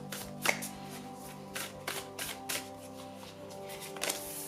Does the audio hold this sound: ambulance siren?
no